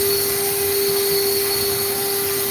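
Steady, loud drone of a vacuum running continuously as it sucks up a cluster of killer bees, with an unbroken whine and no talking.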